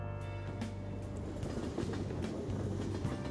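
Steady rumble of a train ride in the Persona 5 Royal video game, a continuous low rolling drone with faint rhythmic clatter running evenly throughout, no voices over it.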